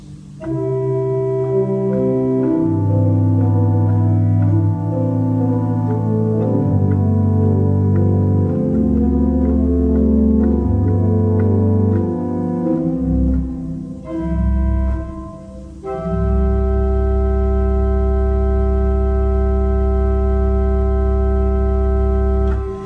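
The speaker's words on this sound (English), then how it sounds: "which is a 16-foot Borden, and it sounds like this" A church organ in North Yorkshire sounds its 16-foot Bourdon stop on the great manual, deep sustained tones moving through a slow sequence of held notes, full and resonant with a short dip before the final chord.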